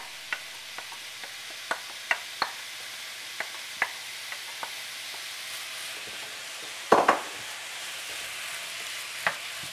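Chopped onion stirred into a hot taco dip, with a steady low sizzle and scattered spoon scrapes and clinks against the pan, close and moderately loud, no talk.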